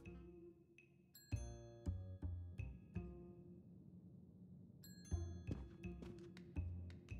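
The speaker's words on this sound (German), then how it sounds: "Ding dong." Bright ding-dong chimes from a doorbell in the Agatha Christie Murder on the Orient Express video game ring out clearly, one set early and another later, over a soft background score.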